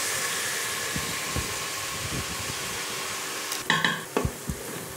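Onions sizzle steadily in a pan for a smoky dhaba-style chicken curry, with occasional stirring scrapes, then a sharper clatter of utensil against pan near the end.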